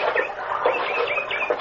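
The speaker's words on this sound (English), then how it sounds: "Hey, listen to that bird." A bird calls near a jungle beach, a loud, close series of repeated clucking, chattering notes that rise and fall continuously for under two seconds, heard alone without talk.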